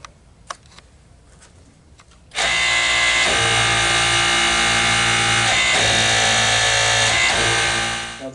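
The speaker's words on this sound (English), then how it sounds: "I'm going to be hitting the green button to make the wrench go forward" A Snap-on AutoTORQ hydraulic chain pipe wrench starts up abruptly and runs forward with a loud, steady hydraulic drone that holds for several seconds, then eases off.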